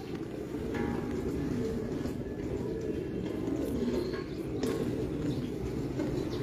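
Breed pigeons at a keeper's loft, low soft cooing that repeats in a murmuring rhythm under faint background noise and occasional light chirps, moderately close, with no one speaking.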